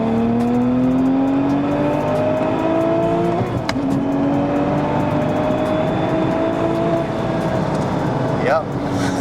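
A Porsche 911 Turbo 997.1 cabriolet with Pure Turbos 68mm upgraded turbochargers pulls in fourth gear from about 3,000 RPM, its engine note climbing steadily and loud from inside the cabin, broken by a brief shift or whoosh near the end.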